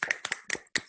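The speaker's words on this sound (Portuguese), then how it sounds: "Agora é aquela hora que a gente vai dar aquelas palmas virtuais aqui para Laerte." A handful of sharp hand claps from a small audience, four quick, close bursts, fairly quiet and alone.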